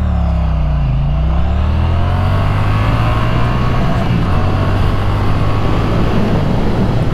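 A 2021 Triumph Bonneville T100 motorcycle engine roars steadily as it accelerates hard from 0 to 100 km/h, pitch climbing through gear changes with a continuous loud drone and no voices.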